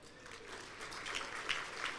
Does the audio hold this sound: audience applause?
yes